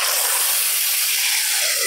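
Garlic sizzles and splutters in hot oil for a tempering, a steady, loud, bright hiss close up with no voices.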